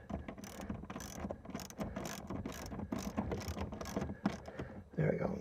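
Bolts are tightened with a ratchet during a seat installation in a 2021 Toyota Tacoma, giving rapid, close clicking bursts that repeat in short runs with brief pauses.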